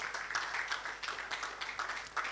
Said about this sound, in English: let's give him another resounding applause